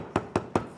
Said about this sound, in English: Now we can tap this down